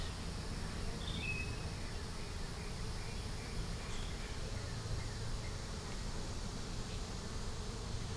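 Honey bees buzzing around an open beehive with brood frames, a steady dense hum that holds evenly throughout, close by and without any talking.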